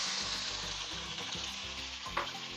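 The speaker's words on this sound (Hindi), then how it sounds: "अब हम टमाटरों को भी फ्राई कर लेते हैं।" Thick chunks of tomato frying over a full flame, a dense, loud sizzle with a low rumbling pulse underneath and one brief stirring knock near the end.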